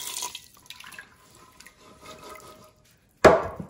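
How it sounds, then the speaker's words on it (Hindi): Water trickles and drips faintly with small clinks of a pressure cooker, then a short, loud gush of water pours in over chickpeas near the end. "इसमें इतना पानी डालेंगे कि बस जिसमें ये गल जाए।"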